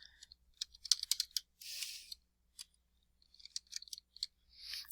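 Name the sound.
typing on a computer keyboard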